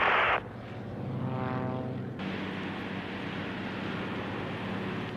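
A propeller airplane drones steadily overhead during a wing-walking stunt, a loud continuous engine roar with a rising whine after a brief burst of wind noise at the start.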